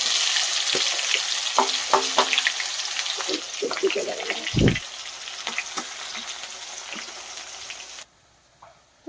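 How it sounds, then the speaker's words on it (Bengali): Onions frying in a pan on a small stove, a steady crackling sizzle with scattered spatters and scraping stirs, one louder clack midway, then the sizzle cuts out near the end. "এখন আমি পেঁয়াজটা ভেজে নেবো"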